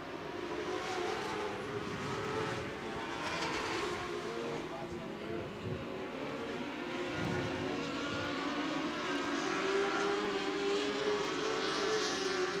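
Race cars lapping a dirt oval at the Marysville Nationals, a continuous engine drone that swells and fades as cars pass at middle distance, steady and fairly loud throughout, with a track announcer's voice mixed in.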